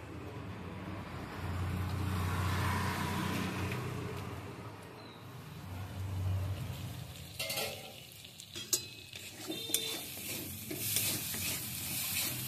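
Spice masala frying and being stirred in a pan for a jackfruit momo filling, a steady sizzle with scraping stirs growing sharper and clinkier toward the end, close by with no voices.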